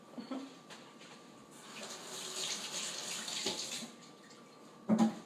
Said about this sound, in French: Je vais me laver les mains, j'ai du chocolat partout.